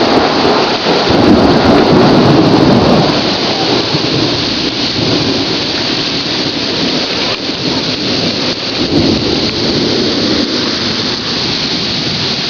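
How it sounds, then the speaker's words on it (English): Heavy summer rain pours down in Kansas amid high winds and thunder, a loud, dense, unbroken roar of rainfall with deep rumbles rolling underneath throughout. "It is just pouring."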